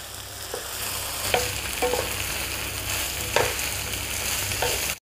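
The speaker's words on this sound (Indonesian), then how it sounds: "saya akan masukkan ayam suwirnya. Masukkan semua saja sambil diaduk sampai merata ya." Shredded chicken being stirred into fried spice paste, a continuous frying hiss with periodic scraping and clacking spoon strokes against the pan, ending abruptly.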